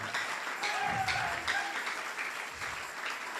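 A church congregation applauding together, with steady, dense clapping that pulses in waves and carries some vocal presence within the crowd noise.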